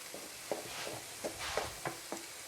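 Meat frying with onions in a pan, a soft steady sizzle with intermittent stirring scrapes and clinks, close by, with no talk.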